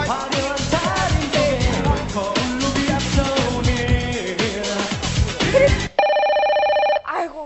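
A telephone rings in an electronic tone after loud rhythmic music cuts off during a student trade-remedy competition skit on stage, with a couple of bright ring bursts standing out alone near the end.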